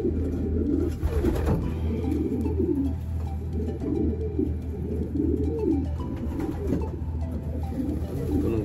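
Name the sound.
birds cooing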